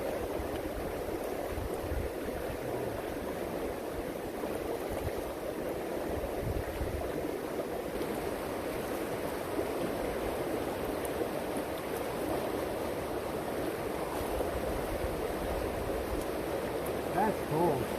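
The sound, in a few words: creek water flowing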